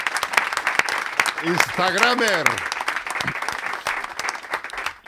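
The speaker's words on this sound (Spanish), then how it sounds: "quiero pedir un aplauso" A studio audience on a Spanish comedy talk show applauds steadily and loudly throughout, while a voice speaks over the clapping.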